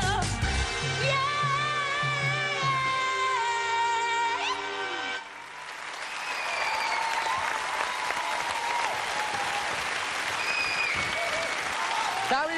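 A singer's song with backing music winds down, then an audience breaks into loud, sustained applause and cheering at a televised singing show after a performance.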